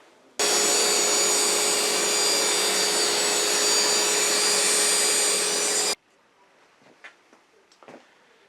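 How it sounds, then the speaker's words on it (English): Sanding a wooden bottle stopper display with a power sander: a steady, loud whirring hum that starts abruptly, holds for about five seconds, then cuts off, followed by quiet handling clicks. "go ahead and do any sanding I'm going to do"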